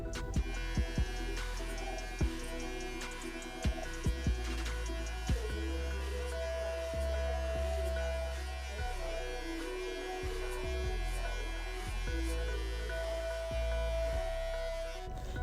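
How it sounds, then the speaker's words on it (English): Electric hair clippers run with a steady mains-like hum through a mid drop fade haircut, worked clipper over comb, with short clicks and contact noises breaking the buzz. "clipper over comb"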